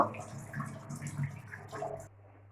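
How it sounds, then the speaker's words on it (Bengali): Water runs and splashes as raw chicken is rinsed in a bowl or under a tap, close and soft, with a steady wash of splashing that cuts off abruptly near the end, leaving only a low hum. "চিকেনটাকে আমরা ভালো করে ধুয়ে নেব।"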